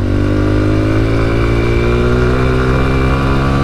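A Honda dirt bike engine held at full throttle, producing a loud, close, sustained buzzing roar with strong harmonics and no speech over it.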